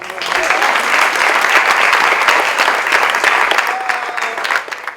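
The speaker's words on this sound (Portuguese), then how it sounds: "Então, uma salva de palmas." Loud, dense applause from a theatre workshop audience, sustained clapping that holds steady for several seconds and then starts to fade.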